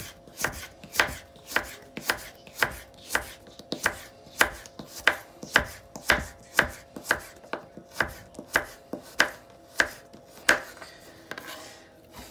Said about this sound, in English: you can cut it like cube size